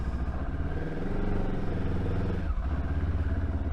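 A Benelli TRK 702 adventure-touring motorcycle idles in gear with a steady, throbbing parallel-twin rumble, close and continuous, with a slight dip and recovery near the end.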